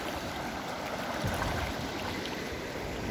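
The Tahuilapa River flows near where it joins the Lempa, giving a faint, steady wash of moving water with no voices.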